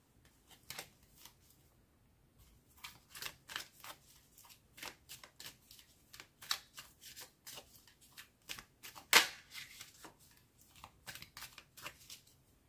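Tarot cards are shuffled for a reading, with soft, close riffles and slaps repeating in an irregular rhythm, quiet and alone, and one sharper snap partway through.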